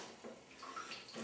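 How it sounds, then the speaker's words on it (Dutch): A strong jet of water rushes from a shower head in a bathroom, a steady close hiss and splash that continues throughout with no voices. "mits men de sterke straal van de douchekop gebruikt, is dit voldoende om het instrument aan te drijven"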